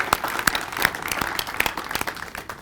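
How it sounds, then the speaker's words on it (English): A crowd at a reception for Kenya's athletics and volleyball teams claps steadily, dense applause from many hands at moderate distance. "join me to really, really give a hard clap for this team who have really performed very well"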